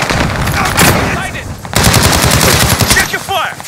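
Rapid automatic gunfire in Call of Duty Warzone on Rebirth Island, loud bursts of machine-gun fire in two long stretches separated by a brief pause, with faint game voice chatter.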